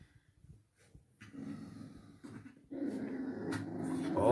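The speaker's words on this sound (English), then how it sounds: "Oh, puppy fight, we've got a fight." Two puppies play fight, with low growls, snorts and huffing breaths that build from scattered bursts to continuous rough grumbling, close and getting louder toward the end.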